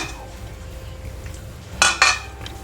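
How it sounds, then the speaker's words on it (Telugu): A pan being taken out and handled in a home kitchen before frying a moong dal snack, with two bright metallic clanks near the end over a quiet room background. "ప్యాన్ తీసుకొని"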